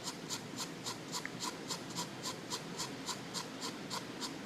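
A pencil hatching lightly across paper, with a steady run of soft, rhythmic scratchy strokes repeating evenly and close up against a faint background hiss.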